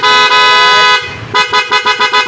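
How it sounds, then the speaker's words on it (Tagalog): A Honda ADV 160 motorcycle's loud dual horn blares in a long sustained blast, breaks briefly, then sounds a rapid series of short toots. "pag sinwitch mode mo, loud horn"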